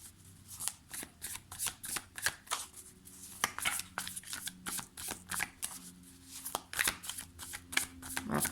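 Light Seer's tarot cards being shuffled by hand, a close and steady run of crisp riffling slaps and flicks repeating through the whole stretch, with no talking.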